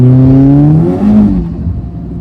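Volkswagen Golf 5 GTI tuned to Stage 4 with about 523 hp, its engine pulling hard under acceleration, a loud close rising drone with strong harmonics that dips briefly as it shifts.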